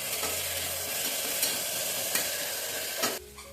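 Fenugreek leaves fry in a pan over medium flame, a dense, close sizzle with stirring scrapes throughout that drops off sharply near the end.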